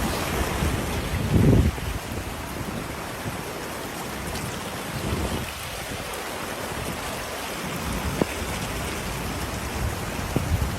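A steady, loud rush of water from a flooded creek after heavy rain roars continuously, broad and churning, with a few brief surges and no voices.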